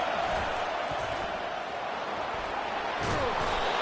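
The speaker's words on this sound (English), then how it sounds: "Decibels rising as the crowd gets behind this defense on 3rd down." A football stadium crowd at a Penn State game roars on third down as the defense takes the field, a broad sustained din with sharp thuds and a swell near the end, while a commentator talks over it.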